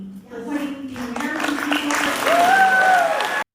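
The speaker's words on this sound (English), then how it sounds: "a standing ovation for Liz Cheney here in the East Room of the White House" Standing ovation applause fills the White House East Room as a crowd claps steadily and loudly throughout, with voices mixed into the noise and a whistle cutting through near the end.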